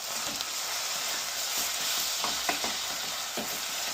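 Tomatoes and chili fry in hot oil in a pan, a steady close sizzle with occasional soft stirring scrapes, no talking.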